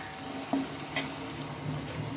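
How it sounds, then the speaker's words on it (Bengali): Ginger, cumin and dried red chilli fry in oil while being stirred, a close steady sizzle broken by a few scraping knocks of the spoon against the pan, with no talking. "মশলাটা একটু ভালোভাবে আমি কষিয়ে নেব।"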